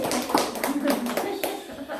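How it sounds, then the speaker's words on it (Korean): Church congregation clapping lightly and rapidly in a small room after a song, the soft patter mixed with a voice speaking and murmurs throughout. "네, 박수"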